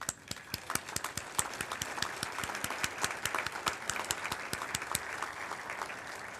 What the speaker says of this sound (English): and we'll give them a round of applause.